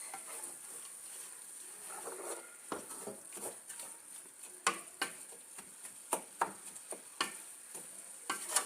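Chopped cabbage being stirred in a pan with oil, chili pepper and onion: a steady low sizzle under a run of irregular scraping taps and clacks from the utensil, growing sharper and more frequent toward the end.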